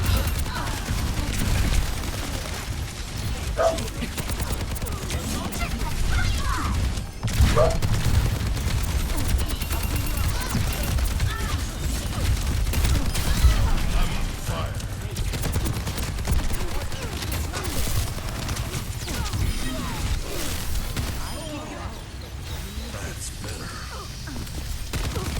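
Rapid gunfire from Sojourn firing her railgun and ultimate in Overwatch 2, dense continuous bursts of shots with loud game effects filling the scene, and voices mixed in beneath.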